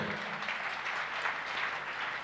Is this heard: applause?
yes